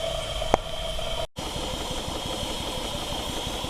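A steam traction engine running quietly nearby, a soft steady hiss with a low, regular chuffing rhythm, one brief sharp tick and a short dropout early on.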